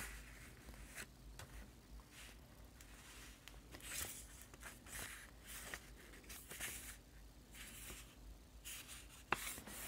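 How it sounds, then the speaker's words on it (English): A pencil marks a line along sheet music paper, the graphite scratching out in short close strokes with small pauses between, quiet and alone. "let's just make pencil mark along here"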